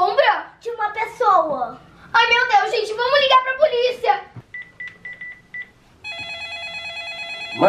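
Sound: telephone dialing to call the police

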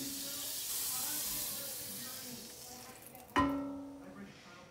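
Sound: butter sizzling in a frying pan

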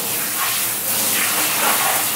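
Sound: warm water spraying while bathing a dog

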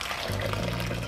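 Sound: water being poured into a soup pot

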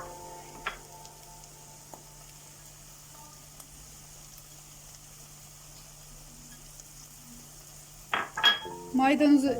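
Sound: parsley added and stirred into sautéed spiced mixture

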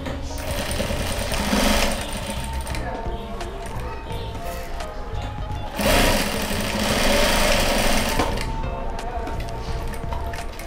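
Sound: sewing machine stitching sponge piece of card holder

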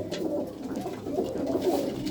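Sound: pigeons cooing

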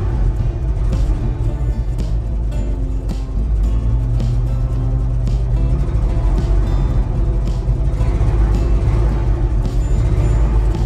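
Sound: 1968 Ford F100 engine revving, running rough

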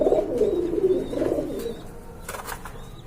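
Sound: pigeons cooing

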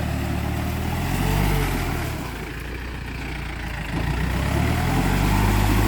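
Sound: Yanmar tractor engine struggling in mud

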